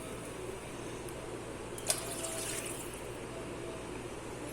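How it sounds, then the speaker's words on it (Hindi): Water is poured into a pan of butter and flour fried together, the flame turned off, making a soft steady splashing wash with one brief bright spatter near the middle, no voices. "फ्लेम अभी ऑफ करें और साथ ही 1 कप पानी डाल दें"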